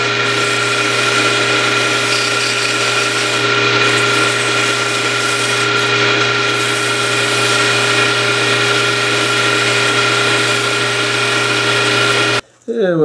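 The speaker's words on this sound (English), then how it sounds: "And then I'm going to sand it." A power sander works a spoke wheel for a model car with a steady, loud mechanical whine and hum that runs unbroken for several seconds before cutting off abruptly near the end.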